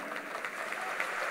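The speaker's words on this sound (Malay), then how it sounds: "kita beri tepukan kepada mereka" A crowd applauds party leaders at a BN Youth Machinery launch ceremony, a dense, even wash of clapping that holds steady throughout the short moment.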